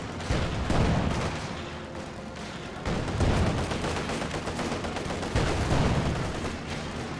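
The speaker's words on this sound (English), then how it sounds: "Panzerfaust firing." A Panzerfaust fires amid Company of Heroes 2 combat, with three heavy, booming bursts spaced a couple of seconds apart over continuous crackling gunfire and rumble.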